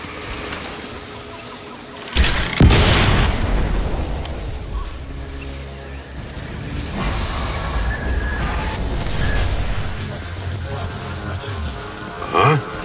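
A sudden loud blast bursts out early in the game Crysis 3, followed by rumbling, crackling game effects beneath voices and background sound.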